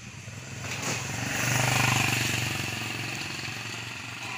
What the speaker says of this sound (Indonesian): Terlihat kendaraan berlalu lalang, didominasi seperti biasa kendaraan roda 2.